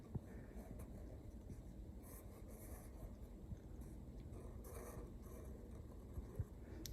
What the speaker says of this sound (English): Just drawing some wobbly lines with some little squiggles to make it look like they're furry trees.